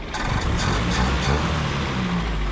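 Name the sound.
1967 International Scout engine revving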